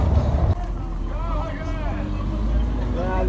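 Constant low rumble inside a moving bus in Brazil, heading toward Juazeiro, with muffled talking over the engine and road noise throughout.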